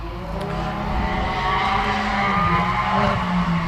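A Can-Am X3 side-by-side race car on an off-road desert race course, its engine a steady loud roar with tyre and gravel noise, rising slightly in loudness as it runs, with no talking.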